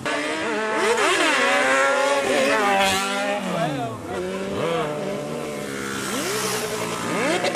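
Honda Hornet and Yamaha XJ6 motorcycles rev hard and race, engines climbing and dropping in pitch through repeated gear changes, loud and close throughout, with people talking over the engine noise.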